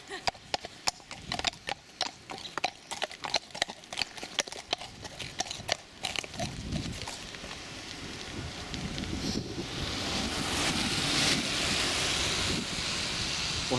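Horses' hooves clip-clop on a trail ride, a quick irregular run of sharp hoofbeats that fades into steady wind noise and rushing outdoor ambience in the second half.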